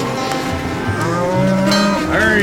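Cattle moo loudly and close by in several overlapping, drawn-out calls on a working farm, with the herd audible throughout.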